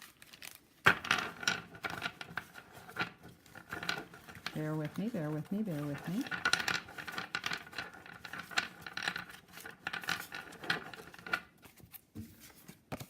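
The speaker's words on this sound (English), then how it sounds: "shuffling of the deck." An Eight Coins' Tattoo Tarot deck is shuffled by hand in a steady patter of card riffles, close and clear, with a person talking over parts of it.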